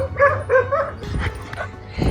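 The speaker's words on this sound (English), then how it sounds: "there's like 5 of those dogs" Several dogs in an abandoned Bulgarian village give a few short, close yips and barks, followed by rustling and movement.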